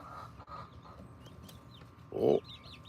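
Chickens cluck in a farmyard with a loud, close burst of clucking near the end, over soft background chatter from other birds.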